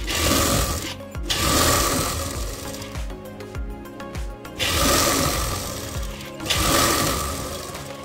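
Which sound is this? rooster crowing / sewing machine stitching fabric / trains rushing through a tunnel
sewing machine stitching fabric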